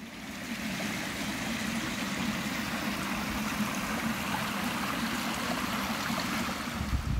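A river or stream below a bridge in a rocky canyon near Navacelles, flowing as a steady, even rush of water at moderate distance, with no talk over it.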